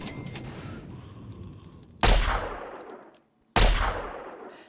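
Two heavy weapon shots from Fallout 3, each a loud sharp blast with a long ringing tail, fired about a second and a half apart in steady rhythm after a stretch of rumbling game ambience.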